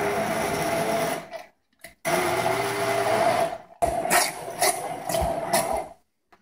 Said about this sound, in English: now what I'm going to do is I'm going to take my immersion blender and just blitz this up